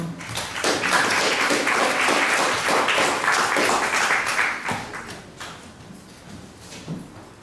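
Audience applause for a poet at a Women's Day poetry recital, a dense burst of clapping from a modest crowd that swells, holds for several seconds, then fades to a few scattered claps.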